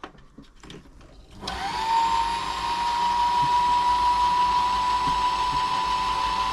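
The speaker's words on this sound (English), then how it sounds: "Let's find some thread onto this bobbin." A Toyota 2600 sewing machine winds thread onto a bobbin: after a few quiet clicks its motor spins up and holds a steady, close, high whir.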